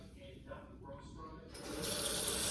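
Tap water runs over pothos cuttings being rinsed at a sink, starting soft and swelling into a steady, fuller gush near the end.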